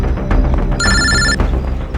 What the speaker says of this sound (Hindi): यार सोनल का फोन था